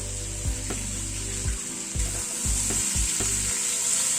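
Beans fry in a pan alongside pumpkin in a vegetable curry, with a steady sizzle and repeated low scraping strokes of a spatula stirring at a regular pace, no speech.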